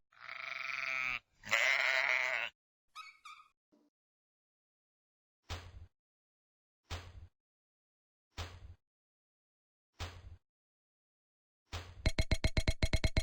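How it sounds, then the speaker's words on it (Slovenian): A sheep bleats in a quick, quavering burst near the end, following a row of short, evenly spaced pops and a little earlier child-like voice sounds in a children's dot-connecting game. "Ovca."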